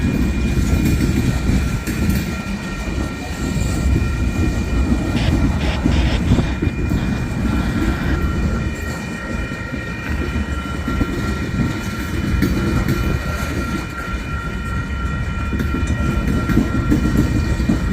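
Union Pacific freight train led by locomotive #7337 with distributed power units rolling steadily past nearby, a loud continuous rumble of wheels and cars with faint high squealing and a brief horn-like tone in the middle.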